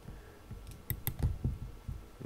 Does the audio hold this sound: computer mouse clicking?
yes